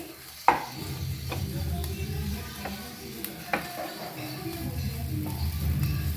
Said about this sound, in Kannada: ಇದನ್ನೆಲ್ಲ ನೀಟಾಗಿ ಮಿಕ್ಸ್ ಮಾಡ್ತೀನಿ